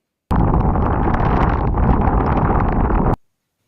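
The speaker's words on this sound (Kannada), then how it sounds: "ಜೋರಾಗಿ ಬೀಸೋ ಕುಳಿರ್ ಗಾಳಿ ಒಳಗೊಳಗೆ ಕಚಗುಳಿಯ ನಡುಕ ತರಿಸುತ್ತೆ" Strong cold wind on a hilltop roars steadily against the microphone for about three seconds, a loud, dense rumble that cuts off abruptly.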